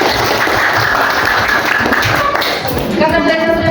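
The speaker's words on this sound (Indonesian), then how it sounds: "Ya, tepuk tangan dulu." Students in a classroom clap during a lesson, a close, loud burst of hand claps with taps and thuds, and voices mixed in near the end.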